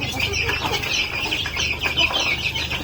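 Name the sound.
native chickens and chicks clucking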